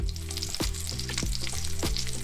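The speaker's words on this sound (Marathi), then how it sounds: "आता या पाकळ्या झाऱ्यावर घेऊन त्यांना तेलामध्ये फ्राय करून घ्यायच्या।" Garlic cloves frying in hot oil in a kitchen, with a steady sizzle and crackle and a few soft clinks of a slotted spoon stirring, close and continuous with no talk.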